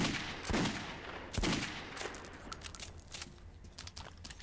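Gunfire in the video game Metro 2033: a few sharp shots near the start, then scattered lighter clicks and pings fading out, with no talking.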